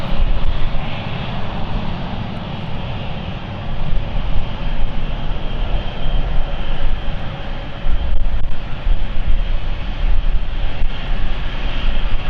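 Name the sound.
British Airways CityFlyer airliner at London City Airport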